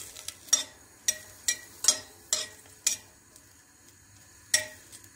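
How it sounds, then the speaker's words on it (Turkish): Green beans frying in oil in a pan as they are sautéed for bulgur pilaf, heard as a quiet sizzle broken by sharp clicks and scrapes of a utensil stirring, with no voices. "şimdi fasulyelerimizi güzel bir şekilde yağda önce kavuracağım"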